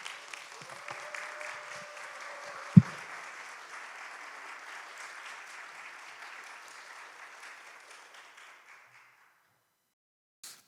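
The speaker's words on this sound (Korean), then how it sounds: "오늘 올라오실 때에 우리 감사와 또 환영의 박수로 함께 또 맞이해 주시면 좋겠습니다." A church congregation at a fifth-anniversary worship service claps in welcome, a soft, even applause of many hands that gradually fades out, punctuated by a single sharp thump early on.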